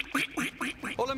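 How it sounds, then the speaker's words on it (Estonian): Animated ducks in a film trailer quack four times in quick succession, loud and close, each a short nasal honk with brief gaps between them. "Pardi!"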